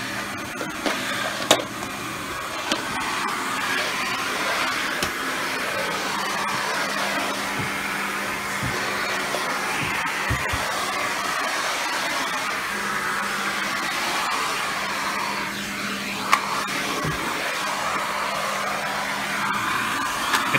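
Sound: Rainbow D3c canister vacuum cleaner running on carpet

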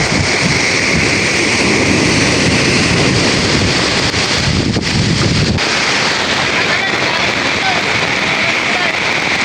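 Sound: strong ocean waves and wind

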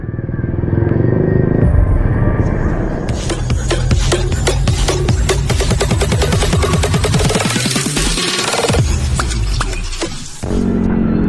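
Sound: heavy road traffic

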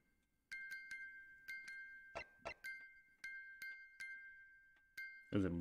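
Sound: music box chiming in video game The Great Ace Attorney

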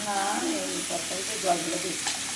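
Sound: frying in a pan

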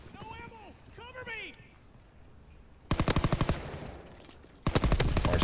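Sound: sniper gunfire in a video game

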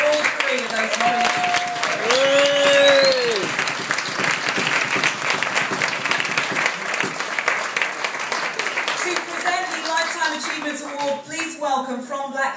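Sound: audience applause for award nominees

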